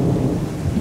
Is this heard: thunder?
yes